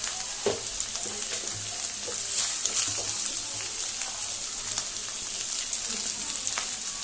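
Ginger-garlic paste and chili powder fry in hot oil for chicken keema, a steady close sizzle with occasional stirring scrapes and spits.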